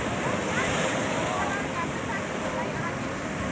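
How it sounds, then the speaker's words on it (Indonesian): Big surf crashes onto the shore at Tanah Lot in Bali, a loud, close, unbroken roar of breaking water with a few faint voices mixed in. "Awas ombak datang."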